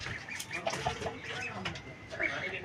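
An injured rooster clucks in short, close bursts, a few quick calls amid rustling, with faint voices in the background.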